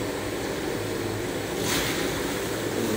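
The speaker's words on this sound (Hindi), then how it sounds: "अब डालेंगे टमाटर।" Tomatoes dropped into a pan of ginger-garlic paste set off a loud, steady sizzle and hiss, with a brief surge partway through and no talk.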